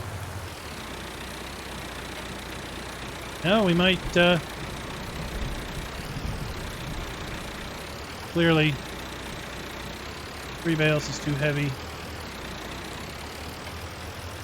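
Little Massey Ferguson tractor engine in Farming Simulator 19 idling in a steady low drone throughout, with someone talking over it in short bursts.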